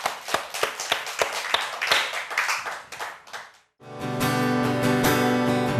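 A church congregation claps in praise, a run of sharp, fairly close hand claps that rolls into busier applause for about four seconds before cutting off, followed by sustained music.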